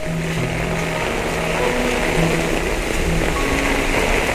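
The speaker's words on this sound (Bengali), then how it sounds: "বিশাল পরিমাণে বৃষ্টি হচ্ছে আর বজ্র পড়ছে।" Heavy rain pours steadily during a thunderstorm, a dense, continuous wash of falling water at an even, fairly loud level with no voices over it.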